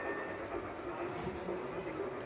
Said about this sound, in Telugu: చూడండి ఎలా వస్తుందో ట్రైన్ మీద ఇలా బుజ్జి ట్రైన్ మీద ఇలా ఫుడ్ వస్తుంది